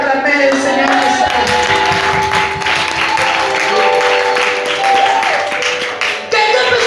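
Congregation at a French-language church service applauding and cheering together, a dense, steady wash of clapping and voices filling the room throughout, loud and close.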